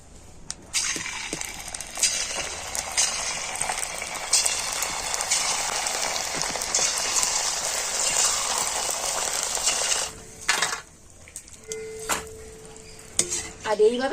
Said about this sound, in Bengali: সমস্ত কুরকুরেগুলো আমি ভেজে নেব